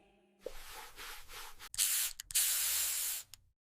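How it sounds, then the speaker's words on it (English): Air freshener sprayed from an aerosol can in a bathroom: several hissing bursts, a couple of short ones, then two longer sustained sprays, close and clear with no talk. "I spray air freshener."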